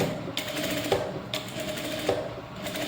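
A sewing machine stitching a blouse neck design runs in a steady, close whirr with rhythmic needle clicks and no talk.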